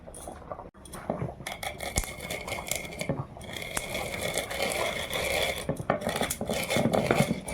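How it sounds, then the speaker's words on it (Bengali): An electric grinder pulverizes roasted whole coriander, cumin and garam masala, starting with some rattling clatter, then settling into a steady, fairly loud whirring grind that builds toward the end. "মশলাটায় আছে গোটা ধনে গোটা জিরে গোটা গরম মশলা এটা ভেজে নিয়েছি তো এটা গুঁড়ো করে নেব"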